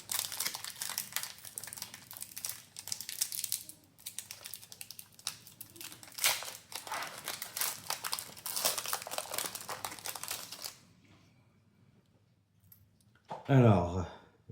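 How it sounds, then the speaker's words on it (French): A Magic: The Gathering Tarkir booster pack wrapper is crinkled and torn open in close, continuous rustling bursts for about ten seconds, then everything goes quiet before a brief spoken voice. "On va ouvrir le premier booster."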